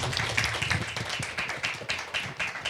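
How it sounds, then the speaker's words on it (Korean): An audience at a talk show event claps together, a steady patter of many hands that swells and recedes across the whole stretch with no voices over it. "여러분 박수 한번 부탁드립니다"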